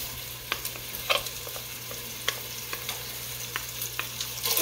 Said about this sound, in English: put this Italian sausage right in here. And get that going.